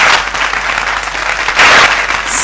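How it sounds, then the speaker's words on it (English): A conference audience at a retail awards event claps in a dense, steady round of applause that stays loud throughout, swelling slightly near the end. "Let's give her a warm round of applause as we welcome her."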